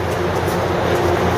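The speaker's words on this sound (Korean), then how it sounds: "저기 차야, 저 파란 기차." A blue train rolls past outdoors in a loud, continuous rumble of wheels and carriages that stays steady from start to finish.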